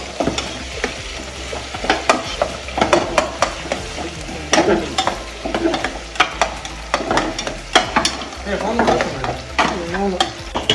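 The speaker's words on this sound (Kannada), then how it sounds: "ಈರುಳ್ಳಿ ಗೋಲ್ಡನ್ ಕಲರ್ ಬರೋಂಗೆ ಫ್ರೈ ಮಾಡ್ಕೊರಿ" Onions fry in oil in a pan for a chicken party meal, a steady sizzle broken by frequent scrapes and stirs of a spatula, close and fairly loud, with no talking.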